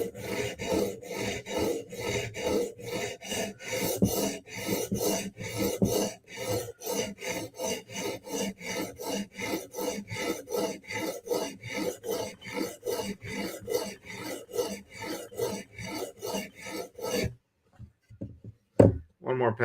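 Coarse 80 grit abrasive is drawn over a blade edge to raise a burr, a rapid run of rhythmic rasping strokes, close and steady, that stops abruptly near the end, followed by a short knock.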